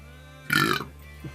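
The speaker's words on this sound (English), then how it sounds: "Sorry about the burp." A single close burp, loud and croaky, lasts about a third of a second from someone on a live drawing stream, with faint background hum before and after.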